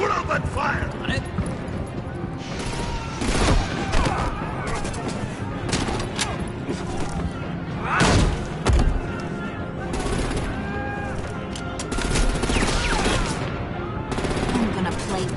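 Repeated bursts of gunfire in The Dark Knight video game, loud clustered volleys recurring across the clip under frequent shouted speech and other combat sounds.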